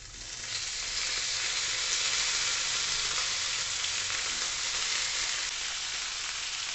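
Raw banana pieces fry in a pan with a little turmeric, giving a steady, even sizzle that holds without a break for several seconds at moderate loudness, with no talking.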